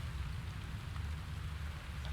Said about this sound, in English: It's also raining, too.